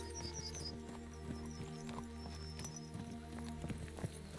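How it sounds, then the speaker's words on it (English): A horse's hooves clip-clop in the medieval video game Kingdom Come: Deliverance II, quick soft irregular taps, faint and steady under a low ambient game background. "I'm petting my horse."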